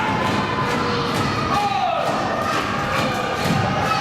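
A wrestler is knocked flat by a clothesline during a W3L women's tag match, the body landing on the ring with a dull thud amid a loud, steady arena crowd roar.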